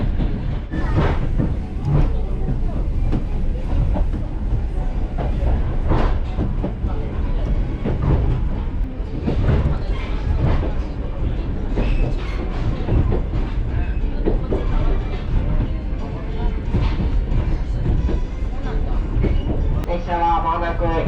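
An Oigawa Railway train rumbles steadily along the rails with rhythmic clickety-clack from the wheels, heard from inside while an announcer speaks over it.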